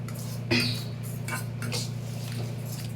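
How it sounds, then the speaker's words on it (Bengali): Ridge gourd batter being mixed in a bowl, with a sharp clink of a utensil against the dish near the start, then soft, steady stirring and scraping over a constant low hum. "একটু নুন, দিয়ে আমি ব্যাটারটা তৈরি করে নেব।"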